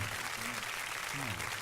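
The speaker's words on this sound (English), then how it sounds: "can we get some hand claps because we back?" Radio-show hand claps make a dense, even wash of applause that holds steady from start to end, with a voice speaking faintly underneath.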